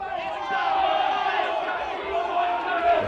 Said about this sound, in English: The crowd there cheering.